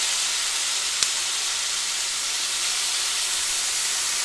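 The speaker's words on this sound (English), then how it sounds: "It's going to sizzle up a little bit." A loud, steady sizzle and hiss of beer hitting a hot pan with bratwurst, continuous and close, with a single small click near the start.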